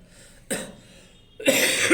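Two harsh coughs, the first short and sharp, the second louder and longer, close to the mic with quiet pauses around them.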